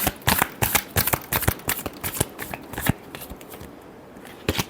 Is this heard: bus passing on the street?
no